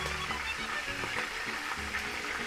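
Calamari deep frying in hot oil gives a dense, steady sizzling hiss that holds evenly throughout, fairly loud and close.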